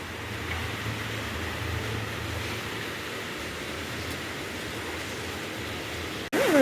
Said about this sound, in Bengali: ভালো জোরে বৃষ্টি নেমে গেছে আবার